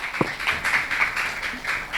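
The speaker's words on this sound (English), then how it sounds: "If we may clap, please." Audience at a donation ceremony for laptops and an endowment fund, a brief burst of dense, continuous hand clapping from a crowd, fairly close and even.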